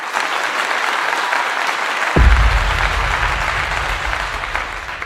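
A canned applause sound effect plays on a livestream as a loud, dense wash of clapping that runs the whole time, with a deep thump partway through and the clapping continuing fuller afterward.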